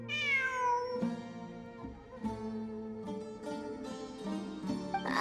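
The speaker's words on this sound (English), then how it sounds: "It really is a cat." A cat in the video game Genshin Impact gives a drawn-out, falling meow, followed by a few shorter mews over soft game music, clear and close with no talk.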